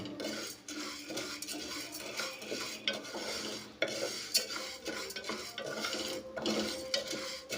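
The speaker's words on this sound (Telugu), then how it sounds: "ఈ విధంగా కుక్కర్లో వేసుకొని ఈ విధంగా ఒక 5 నుంచి 7 నిమిషాల పాటు ఈ విధంగా వేపండి" Toor dal dry-roasts in a pressure cooker and is stirred steadily with a metal spoon, producing a close, continuous scraping and rattling against the pot, with a faint sizzle underneath.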